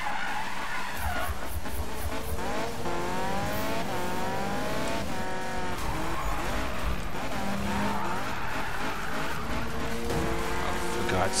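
A 1996 or 2015 Mazda MX-5 drifting in Need for Speed 2015, the engine revving hard under long loud tire squeals, with a person talking over it throughout.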